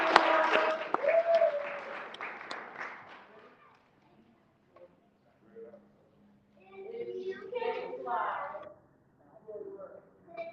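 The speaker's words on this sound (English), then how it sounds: "y'all give him a round of applause" An audience at an MLK brunch program bursts into loud, dense applause that fades after about three seconds, followed by scattered voices talking and a few murmurs in the room.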